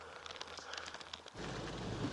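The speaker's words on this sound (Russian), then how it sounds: "Тучи притянуло, дождь пошел." Steady rain hiss sets in and grows louder over a river gorge in the Rhine valley, a dense wash of drops pattering on surfaces, with no voices.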